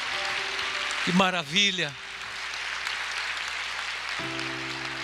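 A church congregation applauds in a steady, rain-like wash of clapping, while someone briefly speaks over it near the start.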